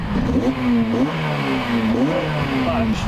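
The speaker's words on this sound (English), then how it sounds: "Just give it a bit some revs now," Short blips of revving from a car with a newly fitted exhaust backbox, heard from outside at the rear, the engine note rising and dropping in quick repeated pulses at close range.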